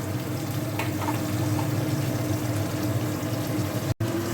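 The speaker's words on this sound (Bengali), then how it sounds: "আমি লো টু মিডিয়াম ফ্লেমে গ্যাসের আছে আমি ভেজে নিচ্ছি হালকা করে।" Chicken pieces fry gently in oil over a low-medium gas flame for chilli chicken, giving a soft, continuous sizzle with a brief cut-out near the end.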